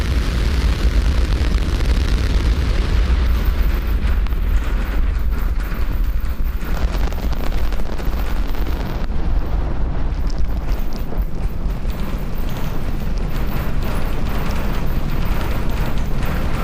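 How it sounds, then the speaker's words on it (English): A SpaceX Starship rocket lifts off during a flight test, making a continuous, powerful roar with heavy low rumble and crackle that stays loud and steady throughout, heard with no voices. "Lift off Starship."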